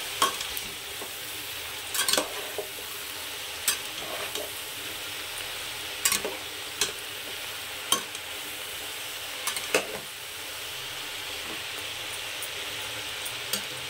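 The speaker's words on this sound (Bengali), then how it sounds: "এখন বন্ধুরা কিছুটা সবজি দিয়ে দিয়েছি, এবার একটু নাড়িয়ে দেবো আমি।" Vegetables sizzle in a frying pan while a utensil scrapes and stirs them, with irregular sharp scraping knocks over a steady hiss, close and moderately loud, no talking.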